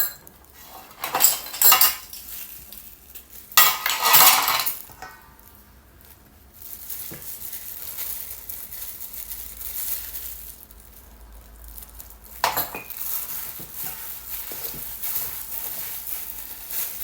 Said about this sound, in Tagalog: Haluin lang siya mabuti guys hanggat sa madurog yung butter.